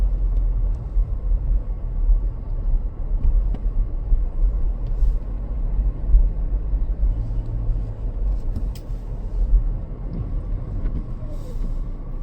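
Car driving slowly along a snowy city street in St. Paul, Minnesota, during a blizzard whiteout, a steady low rumble of engine and tires from inside the cabin, continuous and even throughout.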